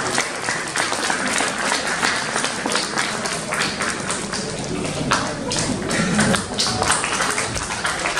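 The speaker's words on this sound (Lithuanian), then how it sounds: "Plojimai" Audience applause at a school ceremony at a Rokiškis progymnasium, steady dense clapping from many hands filling the room throughout without pause.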